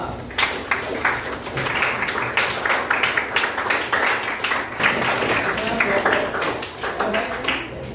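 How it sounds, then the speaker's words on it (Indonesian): Students in a classroom give group 2 a round of applause, steady clapping that continues for several seconds with dense, uneven claps and some voices mixed in. "tepuk tangan untuk kelompok 2"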